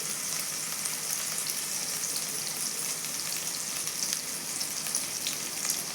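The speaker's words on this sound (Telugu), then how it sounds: "ఇందులో కొద్దిగా కరివేపాకు వేస్తున్నాను." Curry leaves sizzle and crackle in hot oil in a pan alongside onion, a steady, even frying hiss with small pops, close and moderately quiet, with no talking.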